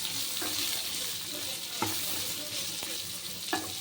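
Radish pieces frying in a pan for a Telugu-style radish chutney, giving a steady close hiss of oil with a few sharp clinks of a stirring spoon scattered throughout.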